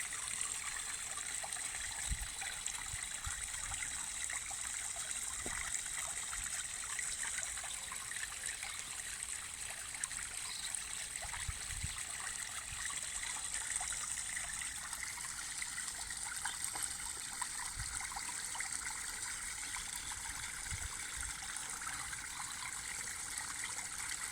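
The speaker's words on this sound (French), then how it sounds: "on va laisser vraiment l'eau couler en abondance" Water runs steadily and abundantly, a continuous, even rushing and trickling that stays constant throughout, fairly close and moderately quiet, with no voices or other sounds.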